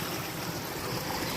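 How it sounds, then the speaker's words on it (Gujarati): Irrigation water flows through a mung bean field, a steady rushing, gurgling wash heard close and continuous for a brief moment, with no voices. "મગમાં પાણી હાલે છે."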